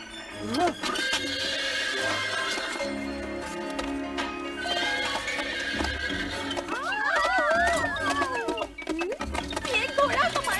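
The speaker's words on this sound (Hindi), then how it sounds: "ये घोड़ा हमारी रसोई में क्या कर रहा है?" Cartoon horse neighing inside a kitchen, loud whinnies with clip-clop hooves and music, with talk overlapping.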